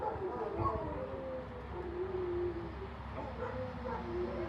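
Several dogs howl and yip together in a long, wavering chorus, mixed with whimpers and barks, heard at moderate loudness through a busy room with a voice faintly under it.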